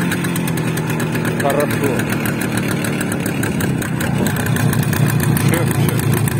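Izh Jupiter retro motorcycle with sidecar idling, a steady close, rattly two-stroke chug with a knocking rhythm, while someone speaks briefly over it.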